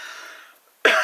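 A single harsh cough bursts out abruptly and close at the end, after a brief quiet fading breath or noise.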